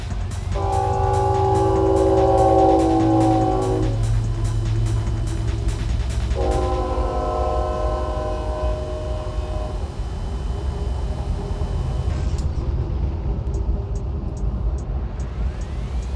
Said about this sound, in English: incoming train